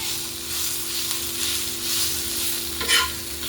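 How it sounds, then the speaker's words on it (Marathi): Onion frying in oil in a pan for a bitter gourd (karela) dish, a steady soft sizzle with stirring scrapes throughout and a brief louder crackle near the end. "याच्यामध्ये तेलामध्ये तो पण कांदा मस्त फ्राय होतोय"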